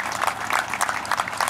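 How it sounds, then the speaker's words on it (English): A crowd at a sign ceremony gives a round of applause, a dense, even patter of many hands clapping throughout, moderately loud and close, with no voices over it. "I'd like to have a round of applause for the family"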